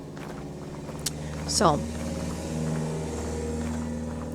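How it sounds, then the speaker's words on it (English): Cars passing on a road outside, a steady low engine rumble with one vehicle sweeping by loudly mid-way before fading, under a man's speech. "yep, noisy cars"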